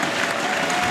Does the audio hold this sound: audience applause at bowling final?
yes